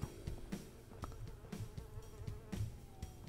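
A fly buzzes in the Fly Simulator video game, set in a pizza shop, with a faint, thin drone punctuated by soft, regularly spaced clicks.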